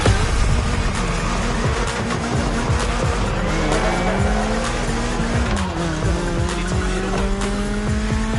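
A BMW M3 in The Crew Motorfest racing game, its engine revving hard and shifting gears continuously while tires squeal and skid, loud and close throughout.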